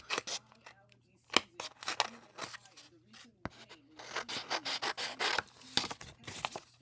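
Scissors snip paper for a mixed media piece, trimming close to the edges in a series of short crisp cuts and rubbing rustles, near and fairly quiet, with a voice talking at times.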